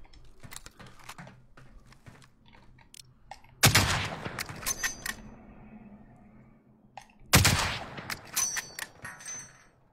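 Gunfire in a sniper battle video game comes as two sharp, loud shots a few seconds apart, each trailing into crackling echoes, over quieter clicking and keyboard tapping.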